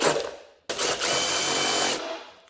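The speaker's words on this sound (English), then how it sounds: "and then I'm going to drill" Close power drill boring through a plastic container for a recycled gardening setup, with a short whir, a brief stop, then a steady burst of about a second and a half before winding down.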